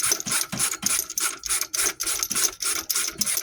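A hand ratchet loosens the two front bolts on a motorcycle part, giving steady repeated clicking strokes close by with a brief pause between each pull, and no talk.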